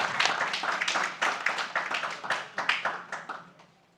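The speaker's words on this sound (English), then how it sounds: "Let's give the choir a round of applause for two fine selections." A small church congregation claps for the choir, a few scattered hands tapping unevenly for a few seconds before the clapping thins and fades out; faint and fairly close.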